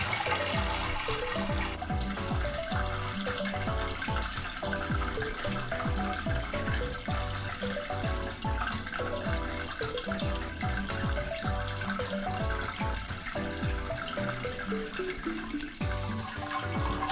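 Wort drains from the lifted malt pipe of a Brewzilla Gen4 brewing system, a steady, close trickling and splashing of liquid that runs continuously without a pause.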